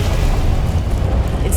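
Confringo blasting curse going off in Hogwarts Legacy, a dense, rumbling low boom that stays loud for the whole short moment with no clear separate hits.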